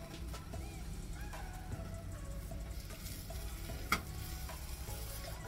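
Food frying in a Paderno non-stick pan, a quiet, steady sizzle with stirring taps and a single sharper clack partway through, close but soft, with no speech.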